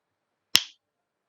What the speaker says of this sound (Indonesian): Nah, itu jentikan jarinya.